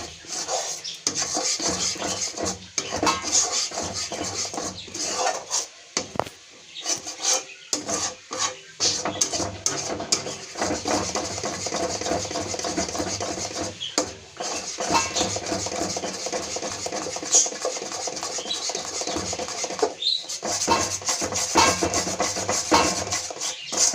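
A spoon stirring and scraping a milk powder gujiya mixture in a pan with the gas off, in uneven rubbing and clinking strokes that run steadily throughout, fairly close.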